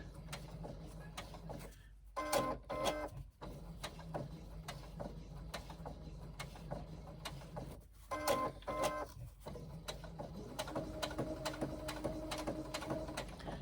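A sewing machine runs in short bursts of stitching as fabric is guided around a curve for a crossbody bag, with whirring mechanical runs broken by brief pauses and clicks, close and fairly quiet.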